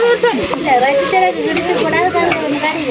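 Food sizzles steadily in a hot pan with crackling and stirring noises, loud and close, while a voice talks faintly underneath.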